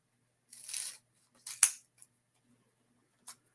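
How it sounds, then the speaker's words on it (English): Paper cut in half with scissors: a short crisp snip-and-slide, a sharper second cut with a clicking close of the blades, then one brief final snip, all close and quiet, with no talk. "So I'm going to do is cut this in half."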